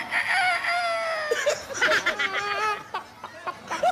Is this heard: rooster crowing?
yes